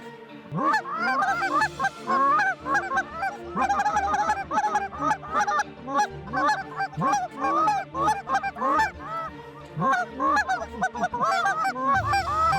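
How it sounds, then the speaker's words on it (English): A large flock of snow geese honking continuously and loudly, many overlapping calls close and far, as the birds drop into a muddy field in central Kansas during a hunt. "This is snow goose mud we're in, but they are dropping in here nice."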